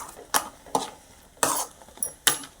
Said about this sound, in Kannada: ಈ ಥರ ಇದನ್ನು ಫ್ರೈ ಮಾಡ್ಕೊತ ಹೋಗ್ಬೇಕು